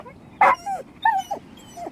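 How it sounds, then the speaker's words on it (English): A dog whimpers in the Genshin Impact video game, giving several short, high, whining cries with gaps between them, close and clear, with no speech. "Oh, here, doggy."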